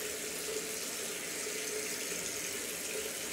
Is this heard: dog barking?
no